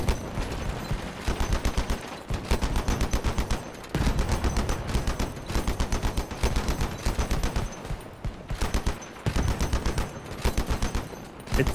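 Repeated bursts of automatic gunfire from vehicle weapons in the online combat game Crossout, loud and close, coming in short rapid volleys separated by brief gaps across the whole stretch.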